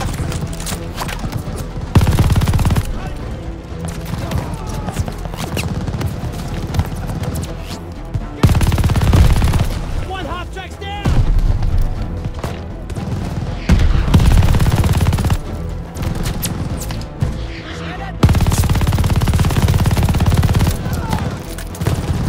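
Heavy machine gun fire and rifle shots in a WWII El Alamein battle video game, dense bursts of rattling gunfire with booming impacts, loud and continuous with brief lulls, and shouting voices mixed in.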